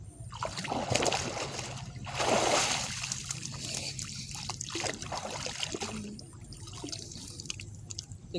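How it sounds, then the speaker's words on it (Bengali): A person dives into river water for a bath, making broad churning splashes and sloshing surges with dripping and trickling between them, close by and moderately loud. "এখন আমি এইখানেই ডুব দেব"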